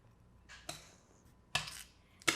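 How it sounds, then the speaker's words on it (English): A knife chops an avocado on a cutting board, three crisp knocking cuts spaced apart, quiet and close, with no talking. "Now I'm going to start chopping up our avocado"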